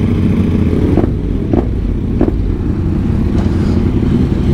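A Yamaha Tenere 700 adventure motorcycle fitted with a Black Widow exhaust rides along with a steady engine drone under wind noise, with a few short sharp clicks or clatters.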